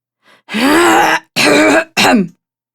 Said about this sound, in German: räuspert sich laut